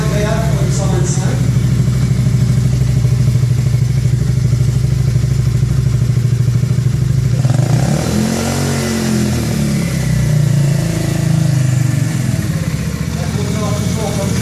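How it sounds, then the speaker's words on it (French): A Zento 125 motorcycle engine runs steadily and fairly loud through the clip, with a rumbling idle that swells into revving around the middle; speech is likely mixed in. "Un peu de la 125 Zento, un bruit très agréable pour une 125."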